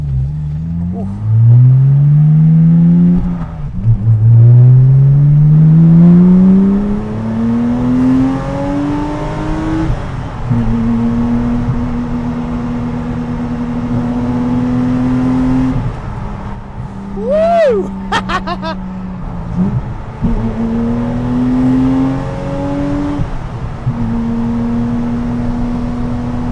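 Porsche 914 restomod fitted with a Cayman engine, revving hard through rising gear pulls with engine pitch climbing and dropping between shifts, loud from the cabin, with occasional voices over the engine.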